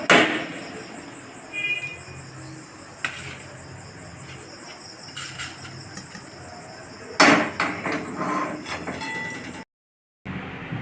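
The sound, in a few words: crushing roasted fennel seeds into powder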